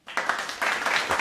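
A short burst of applause plays as a sound bite on a podcast, brisk clapping from a crowd lasting about a second.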